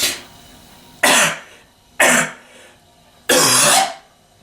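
Four separate bursts of harsh coughing and throat clearing from a person who is sick, each loud, close and abrupt, spaced about a second apart, with the last one longer and heavier.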